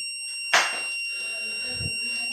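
A vehicle safety system's buzzer alarm sounds with steady high electronic tones, a brief burst near the start, and a low thump later, fairly close.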